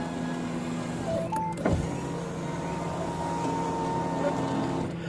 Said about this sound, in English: We'll roll the window up and down.